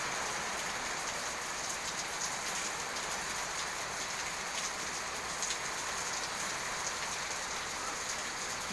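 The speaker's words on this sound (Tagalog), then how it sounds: "Lakas agad ng ulan." Heavy rain pours steadily onto surfaces near a flooding drain, a dense, constant hiss with no pauses, close and fairly loud throughout.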